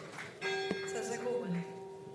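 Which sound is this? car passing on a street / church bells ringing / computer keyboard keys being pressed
church bells ringing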